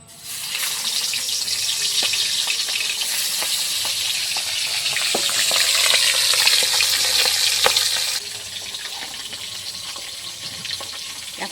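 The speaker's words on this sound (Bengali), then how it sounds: "এখন আর মাছের মাথাগুলোকে তেলের মধ্যে দিয়ে দিই।" Fish heads frying in hot oil in a pan give off a loud, continuous sizzle with crackling spatters and occasional scraping, the hiss easing slightly toward the end.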